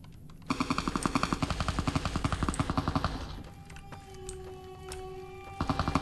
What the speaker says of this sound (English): Where's this shooting coming from?